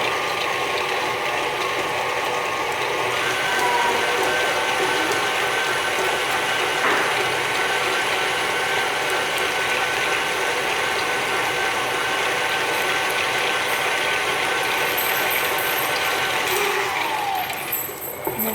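An electric mixer whips homemade body butter, a continuous close whirring and rattling drone that holds steady throughout and eases off at the very end.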